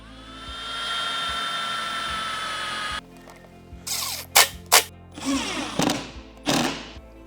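Power drill driving a screw through an L bracket into a wall cabinet's side panel: a steady whirring motor for about three seconds, then sharp bursts of drilling and clatter, close and loud.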